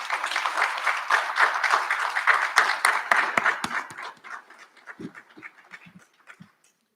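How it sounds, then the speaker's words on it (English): Newly graduated college alumni applaud themselves at a recognition ceremony, a dense burst of crowd clapping that thins after about four seconds into sparse, isolated claps before fading out. "so give yourselves a round of applause"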